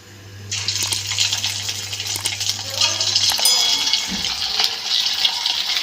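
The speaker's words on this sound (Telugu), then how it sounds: "ముందుగా కలిపి పెట్టుకున్న చికెన్ని ఇప్పుడు ఫ్రై చేసుకుందాం" Marinated chicken deep-frying in oil sizzles and hisses with a steady, dense crackle close by, holding level throughout with a low hum in the first half and no talking.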